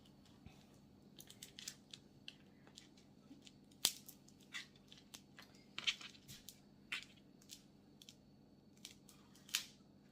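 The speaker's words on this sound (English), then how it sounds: "I'm just basically cutting it in half." Scissors snipping through a stack of paper to cut it in half, a quiet series of crisp irregular clicks and snips spread over several seconds, close and without talk.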